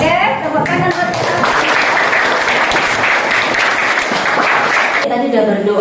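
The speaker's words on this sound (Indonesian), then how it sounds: "Oke, tepuk tangan buat kita." A group of Buddhist students at a village guidance session breaks into dense, lively applause for about four seconds, starting after a few spoken words and fading out as talking resumes.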